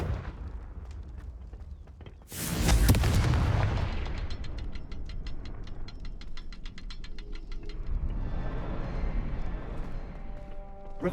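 Fiery Confringo spell blasts in Hogwarts Legacy: a loud burst and crackling roar, then rapid stuttering crackles and a lingering rumbling tail, with no talking.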